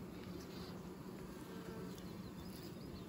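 Bees buzzing during a May hive inspection, a faint continuous insect drone that stays steady throughout with no talking.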